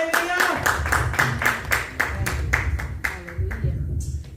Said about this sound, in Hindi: सो आपकी भरपूर तालियों में मैं खुदा के बंदा को पास्टर कमरान को दावत दूंगी